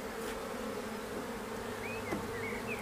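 Honeybees drone in a steady, close buzz at the hive, with a few individual bees whining past in brief rising tones.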